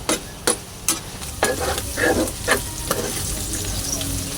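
Pork large intestine sautés in its own rendered fat, a steady frying sizzle broken by several sharp stirring scrapes and clatters close by.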